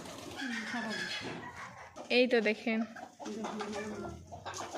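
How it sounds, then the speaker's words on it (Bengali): Pigeons landing one by one to feed on mustard seed coo softly and repeatedly nearby, their low rolling calls mixed with a person talking over them. "আমাদের পায়রাগুলো নামছে একে একে"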